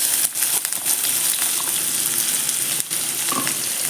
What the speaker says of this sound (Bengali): তেলটা গরম হয়ে গেলে তার মধ্যে দিয়ে দিয়ে দিচ্ছি এলাচ লবঙ্গ আর একটু ডালচিনি আর দিয়ে দেব কুচানো পেঁয়াজ